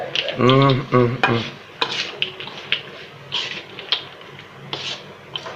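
Stirring and scraping fried peanuts and anchovies in a pan with faint sizzling, a spoon clattering irregularly against the metal, close by, after a brief burst of voice at the start.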